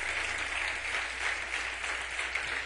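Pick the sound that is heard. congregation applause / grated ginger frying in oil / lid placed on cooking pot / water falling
congregation applause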